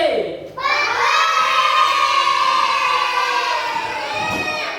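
Schoolchildren in a classroom shout an answer together in a loud, sustained chorus of young voices that rises sharply and holds for several seconds.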